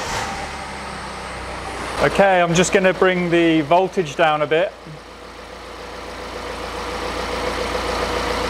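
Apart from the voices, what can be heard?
car engine started and idling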